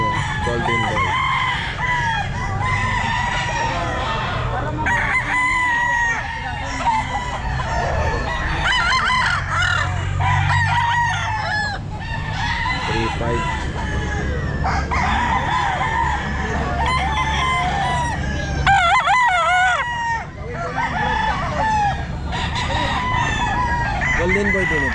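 Golden Boy gamecocks crowing at a busy pet market, several rooster calls ringing out over clucking fowl and a steady crowd murmur, with people talking nearby.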